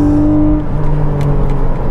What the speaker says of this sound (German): Motor schreit hinter einem.